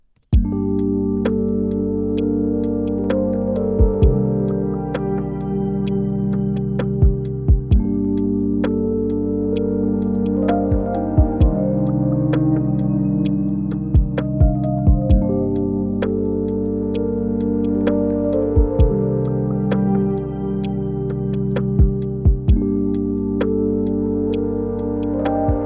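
Lofi beat with ticking drums and a sustained, harmonically rich synth melody from an Arturia DX7 emulation, steady and looping at even volume with no voices.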